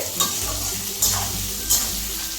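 Green banana curry with salt and turmeric is stirred in a pan, a steady sizzle carrying three short scraping stirs of a spatula, close and clear.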